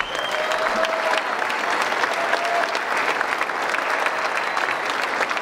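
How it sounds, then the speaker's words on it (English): Steady, full audience applause after a musician's solo at a concert, dense clapping held at an even level throughout with no talking on top. "So let's give him a round of applause real quick."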